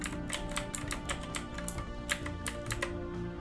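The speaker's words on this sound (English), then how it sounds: "I also would like to apologize for the clicky keyboard." Steady typing on a clicky mechanical keyboard, fast bright keystrokes in an uneven continuous stream, close and alone with no talking.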